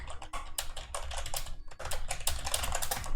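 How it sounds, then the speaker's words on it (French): Rapid computer keyboard typing, close and steady, with bursts of keystrokes and a brief pause midway, no voices. "Désolé si vous entendez le bruit du clavier."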